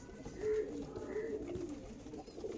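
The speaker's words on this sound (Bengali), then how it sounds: "এগুলো কিন্তু আন্ধ্রা পায়রার বাচ্চা" Young Andhra pigeons coo softly in repeated low murmuring phrases, close by and steady, with faint background noise and no talk.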